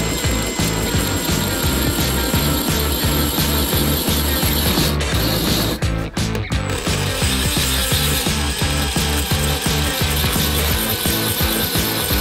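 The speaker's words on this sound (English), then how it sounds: "I've got a new drill as well. I burnt the last one out. Brilliant. 2-inch holes through 6mm steel." A power drill boring 2-inch holes through 6mm steel grinds loud and continuous with a rough, rattling mechanical churn, briefly catching and dipping midway before carrying on steadily, with no talking.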